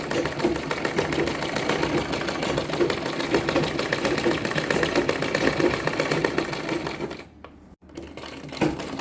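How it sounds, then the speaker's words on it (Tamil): Sewing machine running a straight seam along the edge of lungi fabric, a steady close rhythmic whir for about seven seconds before it stops and gives a few short clicks, with no talking. "எட்ஜ்லேயே அப்படியே நீங்கள் தையல் கொடுத்துட்டு வந்துடுங்க எண்ட் வரைக்கும்"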